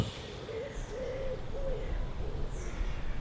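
A wood pigeon coos from a distance in the countryside, a soft repeated phrase of several muffled notes over a steady outdoor background hiss.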